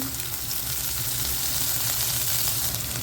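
Onions sautéing in a pan for ragi upma, a dense steady hiss of frying that stays even and close throughout, with no voices.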